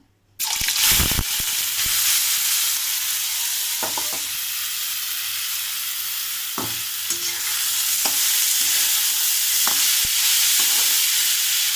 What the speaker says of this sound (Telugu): ఆయిల్ వేడయ్యాక ఆనియన్ వేసాను.